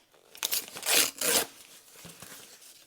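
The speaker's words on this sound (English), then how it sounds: "I also tear a little bit off here." Paper being torn by hand for a junk journal page, a few quick ripping bursts, the loudest two back to back, followed by light crinkling, close up with no talk.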